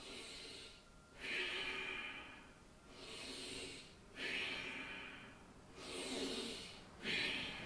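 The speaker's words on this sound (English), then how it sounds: "Now this time you breathe in deep" Deep breathing during a yoga exercise, slow rhythmic inhales and exhales close to the microphone, about four full breath cycles, soft and airy with no talk.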